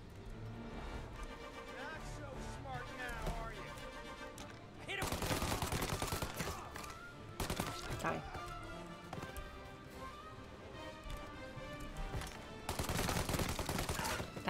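Gunfire in the Mafia Remake video game, with fast bursts of shots loud over in-game car and engine noise. Someone talks over the shooting.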